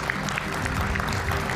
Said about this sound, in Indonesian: Kita berikan tepuk tangan Bung Fredrik Yunadi.